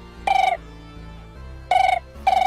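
Phone ringtone in a home, heard as three loud electronic ring bursts, one short burst, a gap with quiet room tone, then two more close together, alone with no talk.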